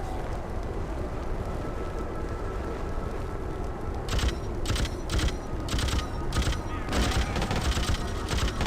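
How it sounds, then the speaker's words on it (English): Machine gun fire in the Freedom Fighters video game comes as several short rapid bursts over a constant noisy battle background, starting partway through and repeating at irregular intervals. "I'm going to stick by my good old tactic of MG sniping"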